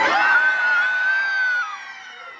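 A crowd at a villains-themed game show night aboard the Disney Treasure cruise ship screams and cheers loudly, with one piercing sustained shriek above the roar before it fades slightly.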